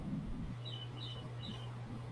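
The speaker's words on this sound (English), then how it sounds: "you hear all the birds?" Faint, high bird chirps repeat three times at night over a steady low hum, distant and soft, with no voices.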